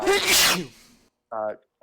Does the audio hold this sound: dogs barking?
no